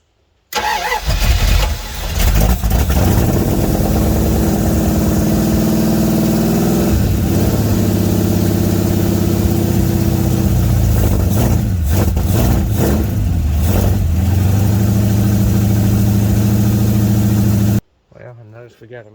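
A Dodge D150 pickup truck engine with a fuel leak from a hard line cranks, starts and settles into a loud, steady rumbling idle while warming up, with occasional revs, then cuts off abruptly.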